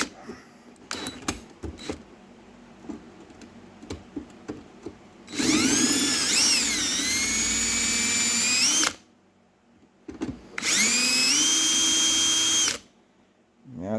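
A power drill, fitted with the next size bit up, drills out a rivet in a Starbucks Verismo K-fee espresso machine, with two loud whining bursts of several seconds each after some quiet clicks and handling noises.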